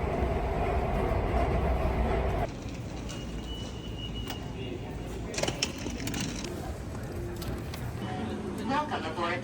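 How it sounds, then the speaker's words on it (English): An airport plane train rumbles steadily along with a low, continuous rolling noise, a brief shift in tone partway through, and faint onboard announcement voices in the background. "Welcome aboard the plane train."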